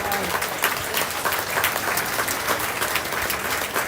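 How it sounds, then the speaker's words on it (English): A crowd claps steadily at a county fair junior livestock sale, a dense continuous round of applause filling the room. "Give him a round of applause for that."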